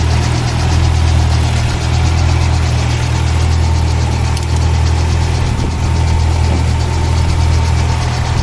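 A car engine idles steadily and loudly for the whole stretch, a continuous low rumble with a faint high whine above it and no voices.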